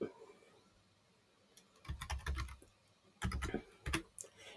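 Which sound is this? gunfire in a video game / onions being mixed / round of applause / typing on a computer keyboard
typing on a computer keyboard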